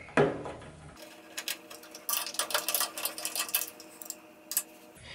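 A bracket is unscrewed on a K40 laser cutter, with close clicking and ratcheting screwdriver ticks in an irregular rhythm under a faint steady hum.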